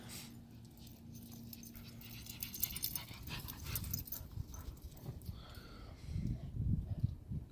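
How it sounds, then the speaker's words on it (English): Australian cattle dog in an Iowa snowstorm, faintly panting, whimpering and snuffling as it digs and romps through snow, with soft rustling and a few low bursts near the end. "She's gonna start barking and stuff."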